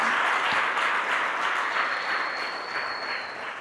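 Church congregation applauding during a worship service, a dense, steady wash of clapping from many hands that stays loud and fairly even throughout, with a thin high tone running through the later part.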